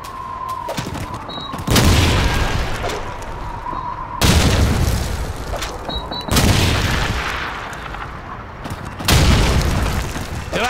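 Grenade explosions in the World War II shooter Call of Duty 2, four loud booming blasts spaced a couple of seconds apart, each with a broad crash and a rumbling tail, close and dominant with no talk over them.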